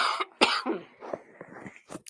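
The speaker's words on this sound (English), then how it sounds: "Sorry about my cough." Several harsh coughs and throat-clearing bursts from an adult during a math lesson, close and fairly loud, spread over about two seconds with short pauses between them.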